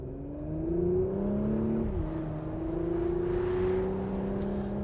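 Porsche Macan S with a twin-turbo V6 accelerating, a steady mid-pitched engine drone heard from inside the cabin that climbs in pitch, dips briefly at a gear change, then rises again.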